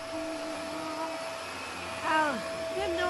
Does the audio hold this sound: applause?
no